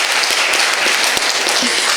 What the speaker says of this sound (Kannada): ಶರಣ್ ಜಾಸ್ತಿಯಾಗಿ ಚಪ್ಪಾಳೆ ಕೊಡಿ, ಅವ್ನು ಜಾಸ್ತಿ ಮಾಡ್ತಾನೆ.